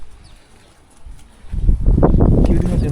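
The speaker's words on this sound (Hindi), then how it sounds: "चिड़ियों से भरा हुआ है" Birds coo and flutter close by inside a shed in a desert village near Riyadh, Saudi Arabia, growing louder and busier partway through, with a low murmur of voices mixed in.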